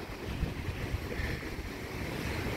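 Ocean waves wash in at Richardson Beach in Hilo, Hawaii at night, a steady broad rumble of surf with rain and wind noise over the microphone and no voices.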